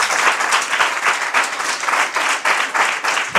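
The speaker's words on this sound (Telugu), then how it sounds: "Just give big claps to the lord Jesus." Congregation at a church service clapping together in loud, sustained applause with a steady rhythmic patter throughout.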